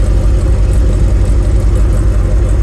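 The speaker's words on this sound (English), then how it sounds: "Problem is that exhaust noise hits the ground, bounces around, makes it a bit louder." Exhaust from a stock Gen V engine swapped into a Chevrolet C10 truck, dumping out near the rear axle, a loud, close, steady low rumble with a pulsing throb throughout and nothing else over it.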